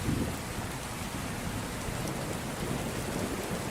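Heavy, steady rain pours continuously with a low rumble of thunder beneath it, a dense, loud stormy wash with no voices.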